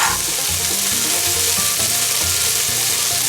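Chicken chili with smoked bacon and spices simmering in a pot, a constant loud sizzle and bubbling with no talk.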